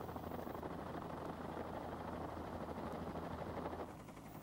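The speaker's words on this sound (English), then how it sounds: "To maintain a hover, the helicopter must now use considerably more power" Steady helicopter rotor and engine noise, a continuous broadband whir and thump, constant in level as if hovering nearby.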